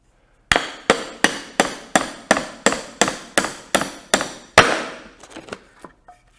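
Steel hammer driving a nail, about eleven sharp, evenly spaced strikes ringing loud and close, followed by a few softer taps and rustling as the work stops.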